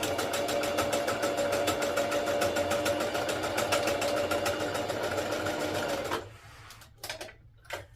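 A Singer serger stitches fabric fast and steady with a rapid mechanical rattle for about six seconds, then stops, followed by a few brief handling noises.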